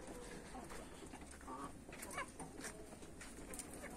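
Chickens in a coop give scattered soft clucks and short calls at a low level, with quiet background noise throughout.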